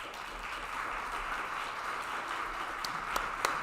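A reception crowd at a disability mentoring day kickoff applauds, a soft, even wash of many hands clapping at a distance, with a few sharper claps standing out near the end.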